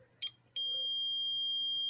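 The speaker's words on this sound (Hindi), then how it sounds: "तो ये ऐसे बजर का आवाज़ आएगा," Digital multimeter on continuity test gives a steady high-pitched buzzer tone that starts after a brief chirp and holds on continuously, close and clear with no talk.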